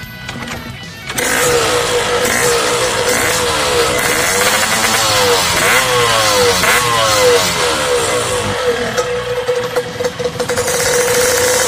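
A Yamaha RX King motorcycle engine starts after a short quiet moment, then runs loudly up close with a steady two-stroke buzz and rising and falling revs for the rest of the clip, with no talking.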